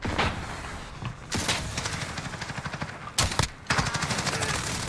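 Rapid automatic gunfire from a first-person shooter video game, with sustained bursts of rattling shots and a couple of heavier blasts, loud and continuous throughout.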